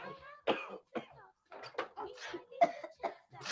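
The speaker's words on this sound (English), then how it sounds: "Daddy is coughing, Gina is coughing, so I just ran for cover." Several bursts of coughing and throat clearing come from people close by, mixed with short stretches of speech and a voice, the coughs sharp and irregular.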